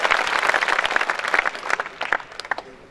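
An audience at a night-time Hindi poetry recital (kavi sammelan) breaks into applause, a full wash of clapping that thins into scattered individual claps as it tapers off.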